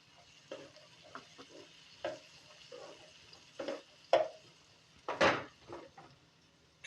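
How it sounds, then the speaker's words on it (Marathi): Onion, tomato and chopped vegetables going into a pan for a vegan protein-rich rice dish, with quiet frying and intermittent spoon scrapes and clatters, including a sharper knock near the end. "कांदा टाकायचा आहे आणि या भाज्या सगळ्या चिरलेल्या त्या टाकायच्या त्याच्यात."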